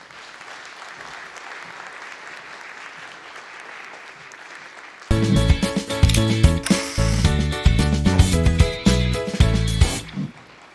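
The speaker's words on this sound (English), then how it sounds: "let's give our awardees from the middle school division a big round of applause" An audience at the 2023 Reflections awards ceremony applauds the middle school division awardees, faint and distant at first, then a loud stretch of music takes over partway through.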